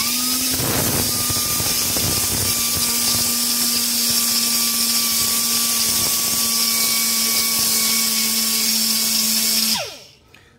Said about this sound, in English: Yeah, so we're just sanding that back.